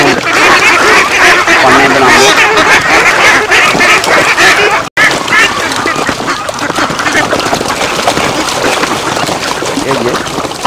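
Ducks on a farm pouring through a small gate into water to bathe, a dense, loud flock quacking continuously while a person talks over them.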